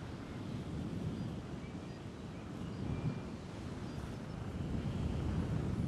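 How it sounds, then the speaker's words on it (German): Strong wind buffets a paragliding pilot in flight at Ronneburg, a loud, continuous low rumbling roar across the microphone that surges and eases slightly, with no voices. "Aber der Wind ist so stark, dass ich selbst mit diesem Schirm kaum vorwärts komme."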